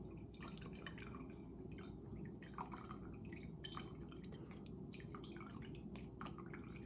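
Rice wine trickles through a strainer or cheesecloth, a soft, close stream of irregular drips and small splashes continuing throughout at low level.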